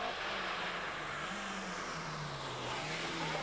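A Ford Escort rally car, crewed by Stephen Hendy and Russell Bolton, drives a stage of the 1991 West Cork Rally in Ireland, its engine a steady droning note that rises and falls slightly, heard from a distance over broad wind-like noise.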